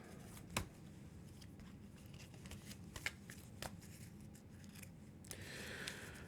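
A deck of cards is shuffled during a tabletop session of the Earthborne Rangers card game, giving soft riffling and light snaps. The sounds are faint and close, over a low steady room hum.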